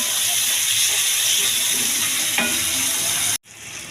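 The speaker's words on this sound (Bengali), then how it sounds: "মাছটি ভাজা ভাজা হয়ে গেছে" A hilsa fish head fries in oil in a pan with a loud, steady sizzle and hiss, one brief clatter near the end before the sizzle abruptly cuts off.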